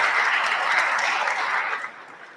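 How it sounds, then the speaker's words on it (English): A crowd applauds Senator Azinger and sponsors at a West Virginia lawmakers' event with the governor, steady dense clapping for about two seconds, then dropping away quickly. "Would you just give them a round of applause for all the work that they did?"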